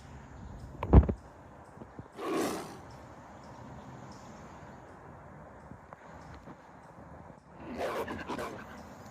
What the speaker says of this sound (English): he hears a loud and deep roaring from the forest